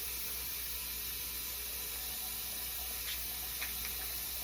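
A tap runs water steadily over a makeup brush being rinsed clean, giving a faint, continuous hiss with no talking.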